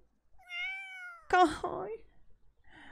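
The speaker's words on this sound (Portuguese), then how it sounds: "O gato tá aqui" A cat meows inside The Sims 4, a long drawn-out call followed by a second, shorter meow, heard over a quiet game background.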